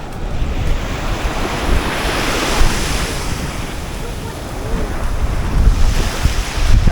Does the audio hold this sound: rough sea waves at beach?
yes